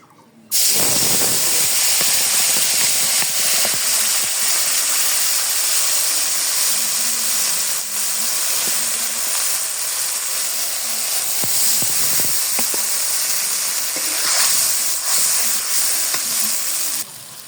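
Spiced pangas fish liver hits a hot pan and bursts into a loud, continuous hiss and sizzle that runs steadily close by, then drops off sharply at the end.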